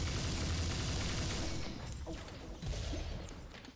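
Rapid, sustained gunfire from the Pixel Gun shooter game, a dense roar of continuous shots that eases slightly midway and then surges again, loud and close with no talk over it.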